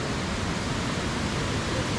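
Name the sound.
waterfall, water falling at Bandaji falls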